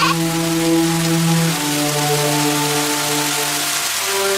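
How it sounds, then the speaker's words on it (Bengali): Heavy rain in a Bengali cartoon about a village goat, a loud continuous wash of downpour over a sustained tonal background score, with no voices. "এত বৃষ্টি হচ্ছে, ওই ঘরে তো পানি পড়ে।"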